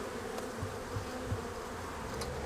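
Honey bees on a hive frame early in the season give off a continuous, dense close buzz, with a steady drone and no voices over it.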